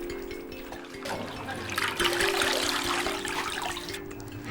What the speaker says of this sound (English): Chinese cabbage is blanched and then cooled in tap water.